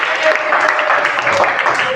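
Children clap together in a classroom. The applause is brief and busy, with voices mixed in.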